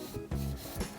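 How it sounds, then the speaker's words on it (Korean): A plastic model part of a large Academy Raideen kit is sanded with 400-grit sandpaper, giving a few short, close rasping rubs in quick succession. "이 커팅 부위는 이제 사포질을 조금 해줍시다"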